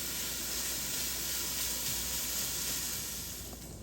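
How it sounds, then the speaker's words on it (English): Bacon sizzles in a pan, a dense, steady crackling hiss that fills the whole moment at moderate loudness and fades slightly near the end. "it won't take too long to cook this bacon up"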